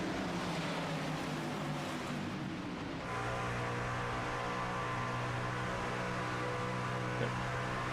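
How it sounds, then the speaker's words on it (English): Racing trucks at Pocono Raceway in the iRacing sim, a steady droning engine roar with a brief dip, then a sustained tonal whine as the pack runs on. "Here comes the 26 truck of Christian Bishop."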